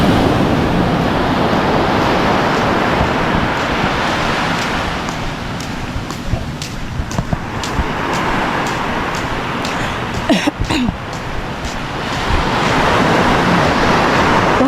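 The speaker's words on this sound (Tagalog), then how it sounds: "ang alon yan wala pa mga nagsusurfing" Ocean surf at Sabang Beach, Baler roars continuously, a broad rushing wash of waves swelling and easing, with gusty wind buffeting the microphone.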